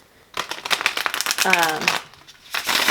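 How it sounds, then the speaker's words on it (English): Rapid papery riffling and flicking of a large tarot card deck in short bursts, close by, with a person speaking over the shuffling. "I'm going to do a few shuffles real quick"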